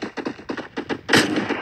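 Bursts of gunfire in a video game, a quick rhythmic series of shots followed by a louder, sustained blast; no one speaks.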